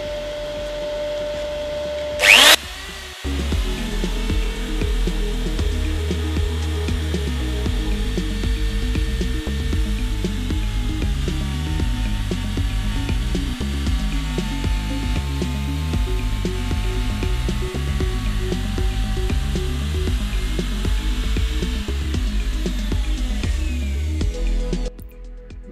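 A router mounted in a fluting jig cuts flutes into an elm pot on a lathe: a sharp switch-on click, then a long, loud, steady motor whine with rhythmic pulsing grinding as the bit works the wood, stopping near the end.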